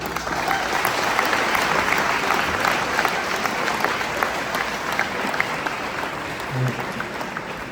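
Audience applauding after a speech, loud dense clapping with sharp individual claps that holds steady throughout and eases slightly toward the end, with faint voices underneath.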